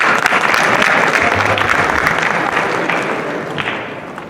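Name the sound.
applause for the prize winner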